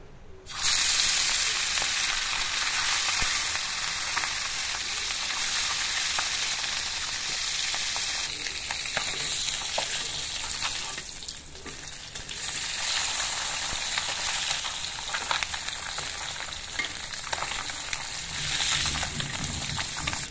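Koi fish frying in hot oil in a home kitchen, a loud, continuous, close sizzle with crackling spatter that holds steady throughout, dipping briefly midway before rising again.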